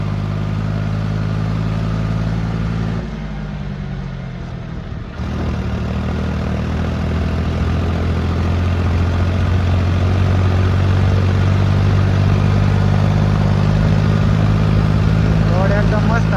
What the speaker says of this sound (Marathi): आणि लोड पण जवळजवळ आपला बरंच आहे आज, त्याच्यामुळं आपण ट्रॅक्टर काय जास्त पळवू बी नाही शकत